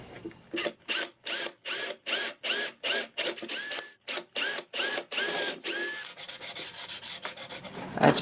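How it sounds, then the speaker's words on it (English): A power drill whirs in a series of short, regular bursts with brief pauses between, close and fairly loud, tapering into lighter scraping at the end. "Now I can drill these out."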